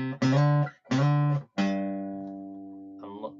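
A short guitar riff: two quick clipped notes followed by a longer note that rings and slowly fades, then a faint soft touch at the end.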